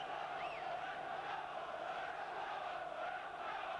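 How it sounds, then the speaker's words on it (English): Middlesbrough supporters chant and roar within the Elland Road crowd at a 1989-90 Leeds United match, a sustained, distant mass of voices with a rising shout near the start and no commentary over it. "And the Borough supporters in this Elland Road crowd now beginning to voice their feelings."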